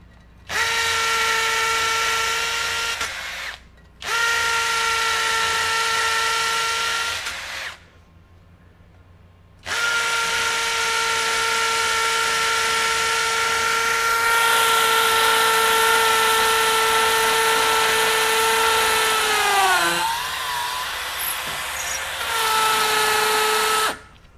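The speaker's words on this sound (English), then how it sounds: "So we should get the hammer impacts as well, and we'll try it here in this concrete block." A Masterforce 20V brushless compact 1/2-inch hammer drill bores into a concrete block with a 1/4-inch bit, its loud high whine running in three long bursts separated by short pauses, with no talking.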